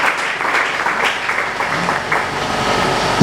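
Church congregation applauding during a Sunday worship service, a steady dense wash of clapping that holds at even loudness throughout.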